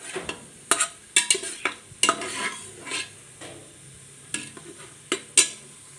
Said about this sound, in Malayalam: ഒരു പിടി ഉണക്കമുന്തിരി ഇട്ട് കൊടുക്കാം അതും ഒന്ന് വറുത്ത് കോരിയെടുക്കാം